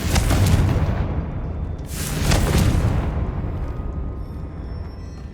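Confringo fire spell explosions in Hogwarts Legacy, two loud, bursting booms about two seconds apart, each trailing off into a crackling rumble.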